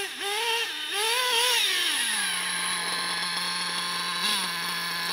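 Modified Alpha T850 nitro RC car with a .28 engine, its high-pitched buzz revving up and down in quick bursts, then settling into a steady whine, loud and close with no talking.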